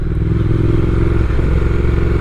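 A Triumph Speed Twin motorcycle slowing under braking on a damp road, its engine a loud, steady close-up drone with a brief dip in tone partway through, no talking.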